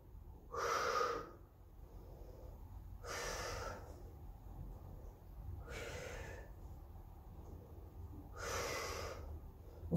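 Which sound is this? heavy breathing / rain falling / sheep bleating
heavy breathing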